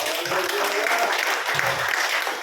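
Church congregation bursts into loud applause during a sermon, a dense continuous clatter of many hands with a low murmur of voices underneath.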